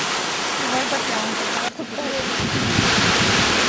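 Waterfall in Iceland roaring steadily as a broad rushing wash, heavy with wind buffeting on the microphone, while a voice briefly speaks over it midway.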